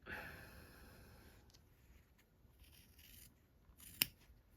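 Scissors cut fabric along a marked line for a crushed ruffle project, a faint close snipping and rubbing in a quiet room, ending with one sharp click.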